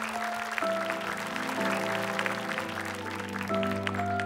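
A studio audience on a televised e-sports talent show applauds two contestants, steady clapping beneath sustained dramatic music tones throughout.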